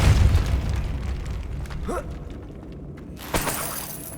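A Depulso spell in the video game Hogwarts Legacy lands as a rumbling, booming blast that fades away, with a short magical swoosh and a sharp crack near the end.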